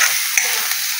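Tomato sautéing in a pan over village cooking heat in the Konkan, giving a steady close sizzle with a faint stirring scrape and no talk.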